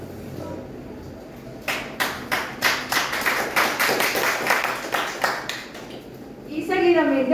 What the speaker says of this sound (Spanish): Fuerte el aplauso para nuestro compañero Doris